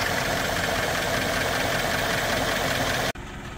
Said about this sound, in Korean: 지금 뭐 엔진 소리 들어보시면 아시겠지만 차량 상태는 좋지 않습니다